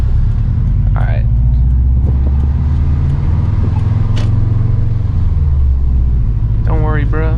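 Steady loud engine rumble and road drone from a 21-year-old Subaru driving off-road in heavy rain, continuous throughout, with brief voices near the start and end.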